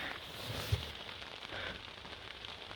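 Steady rain falls on a farm, a faint, even patter with scattered drops and crackles, alone with no voices.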